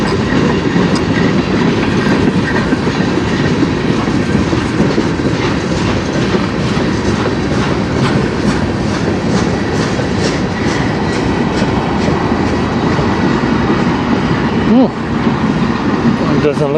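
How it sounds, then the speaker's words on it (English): A CN freight train carrying vehicles rolls past close by on the Strathroy Subdivision near Sarnia, with steady rumbling and rhythmic clickety-clack of wheels over rail joints, loud throughout, with some voice underneath. "Doesn't look like it's a big train."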